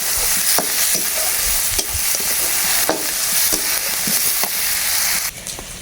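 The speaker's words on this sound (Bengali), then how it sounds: "সব কিছু একবারে দিয়ে দিয়েছি, চিংড়ি মাছ, পেঁয়াজ, রসুন আর কাঁচামরিচ।" Prawns, onion, garlic and green chilli fry in a pan over a clay stove, giving a steady close sizzle broken by repeated scraping clicks of stirring, with no talk.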